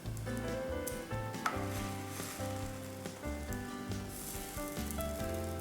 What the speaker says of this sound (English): Next, toast the bread in the pan.